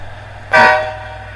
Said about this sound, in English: Oh, that was one honk.